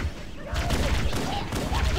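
Rapid gunfire from a weapon in the video game Halo, a dense burst of repeated shots at close range over game background noise.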